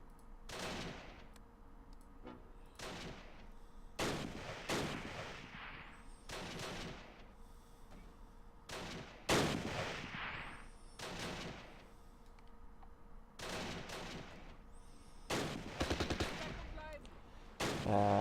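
Mortar and gunfire crack and thump in the World War II strategy game Close Combat Last Stand Arnhem, a string of loud separate bursts and blasts spread through the whole stretch, with no voice over them.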